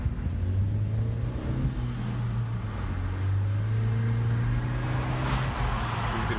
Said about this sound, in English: You can hear the bypass valve and everything.